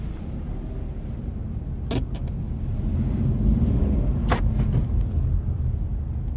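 A 2024 Dacia Duster's three-cylinder engine hums low and steady from inside the cabin during a night drive, with road rumble throughout and a few brief clicks.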